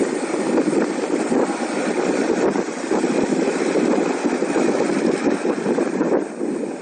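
A tractor engine runs on the grounds of a monastery, a loud steady rumbling drone with wind buffeting across the microphone, continuous throughout with no talking.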